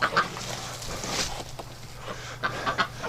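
Ducks quacking in a wet pen bedded with dry straw, several nasal calls in short bursts near the microphone, with quieter goose-like honks and a low background hum.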